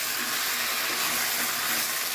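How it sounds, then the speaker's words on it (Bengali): Boiled mutton sizzling in hot oil as it is sautéed for a curry, a steady loud hiss with no pauses or talk. "1 কিলো মাটন আমি বয়েল করে রেখেছি, এর মধ্যে দিয়ে দিলাম। দিয়ে এবার এটাকে আমি সুন্দর করে কষিয়ে নেব।"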